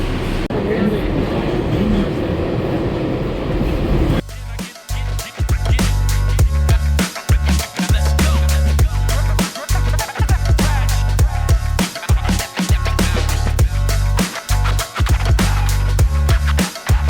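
Ride aboard the shuttle train to Times Square in New York's subway, a loud steady rumble of the railcar with rhythmic clacks and thumps of wheels over rail joints, close and continuous after a quieter platform opening.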